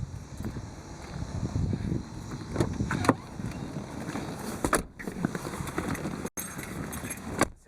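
Interior cabin noise of a 1992 Cadillac Seville STS on the move, a steady low road and engine rumble with scattered rattles and bumps throughout, no talk.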